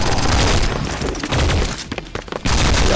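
Near-constant loud gunfire and explosive booms in the T3 Arena 3v3 multiplayer shooter, dense rapid bursts with a brief dip in intensity before the barrage resumes.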